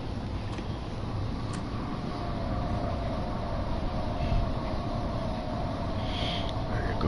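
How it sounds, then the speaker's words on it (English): A downtown subway train passes in the Bronx near Williams Bridge, a steady loud rumble and roar of rail cars with faint high squeals, continuous throughout. "There goes the downtown train."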